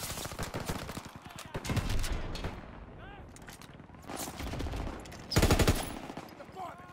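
An MG15 machine gun firing in the World War II shooter Call of Duty WW2, rapid rattling bursts that swell and fade in several loud volleys over a battlefield backdrop.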